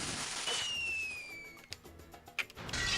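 A cannon fires in Spyro: Enter The Dragonfly, heard as a whistling rise followed by a series of sharp cracking bursts and a final loud blast, with no talk.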